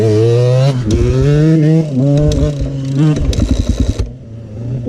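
A KTM enduro motorcycle engine revs up and down close by, its buzzy tone rising and dropping, then sputters into uneven popping and cuts out abruptly.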